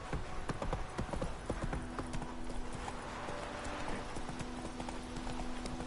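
The horse Roach's hooves clip-clop on the ground in The Witcher 3, a steady, rhythmic run of close hoofbeats over a low background bed.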